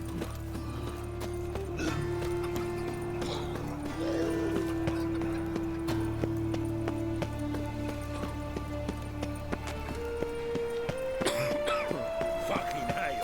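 Horse hooves clip-clop steadily in The Witcher video game, a continuous rhythmic trot under tonal game music and occasional voices, moderately close and even in level throughout.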